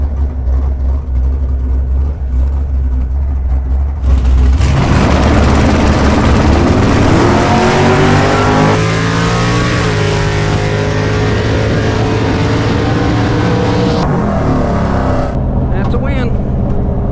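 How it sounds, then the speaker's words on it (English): A fast Super Pro bracket dragster launches at a drag strip, its engine erupting into a loud, sustained roar that holds for over ten seconds as the car races down the track, with talk heard in the background. "Got another fast dragster"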